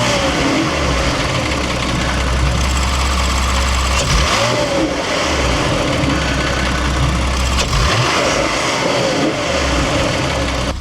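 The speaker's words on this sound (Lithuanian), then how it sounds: "Pas jį karts nuo karto atsiranda kažkokie garsai iš variklio" A BMW M3 Competition engine idles close by in a steady, loud mechanical drone with a light timing-chain rattle and occasional small surges in engine note; no one speaks.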